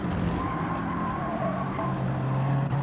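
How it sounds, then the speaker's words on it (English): Race car on soft tyres braking hard into a corner, engine loud and close with a steady droning roar and downshifting tone over the full stretch. "Smash it down into the braking zone."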